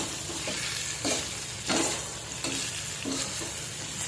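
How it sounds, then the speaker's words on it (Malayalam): Onions sizzle steadily in oil left over from frying chicken, a continuous crackling hiss with a few scraping stirs of a spoon, close and without talk. "ഈ എണ്ണയിലോട്ട് നമുക്ക് സവാള മൂപ്പിച്ചെടുക്കാം."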